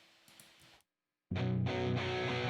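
Rhythm guitar tracks split left and right, lightly processed with EQ, low cut and high cut, enter loud and full after a brief silence and keep strumming steadily to the end, preceded by a faint stretch of quieter sound.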